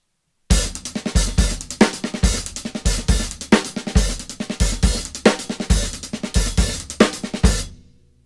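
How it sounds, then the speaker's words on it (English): A close drum kit groove repeats bass drum hits together with open hi-hat accents over a steady pattern for about seven seconds, then decays to silence. "you would play a bass drum and an open hi-hat note together"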